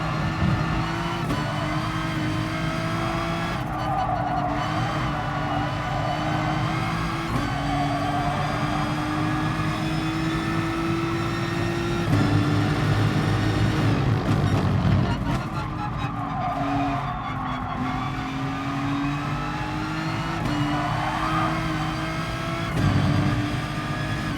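Race car in GT Sport pulling out of corners in high gears, engine tone climbing steadily and dropping at shifts, with skidding tires, loud and continuous while someone talks.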